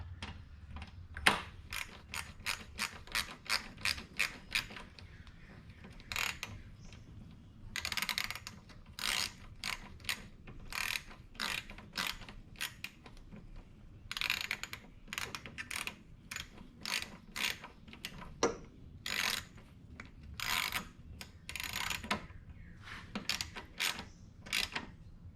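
Irregular bursts of sharp ratchet clicks come close and fairly quiet as a part is tightened back onto a Craftsman mower, in quick runs separated by short pauses, with no talk.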